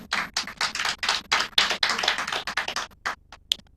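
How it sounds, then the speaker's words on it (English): An audience at a Nigerian corporate sustainability report launch claps in distinct, close bursts, with uneven rhythm and sharp hand strikes that gradually thin toward the end, no voices. "I believe this deserves another resounding applause."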